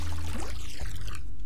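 Water floods a room in the puzzle platformer Recursed with a loud, steady rushing pour that fills the whole moment, with no voices over it.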